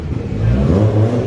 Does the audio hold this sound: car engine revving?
yes